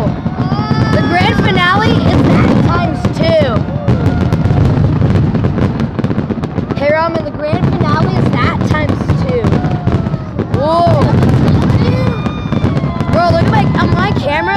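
Fireworks burst in rapid, dense succession, booming and crackling almost continuously and loudly, with excited voices exclaiming over the blasts throughout.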